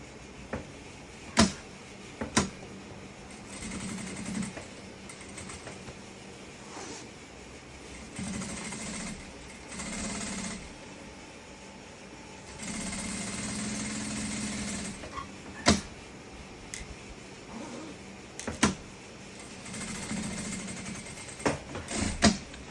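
A sewing machine stitching the lining of a denim bag, running in several bursts of steady motor whir separated by pauses, with sharp clicks and handling knocks from adjusting the fabric between runs.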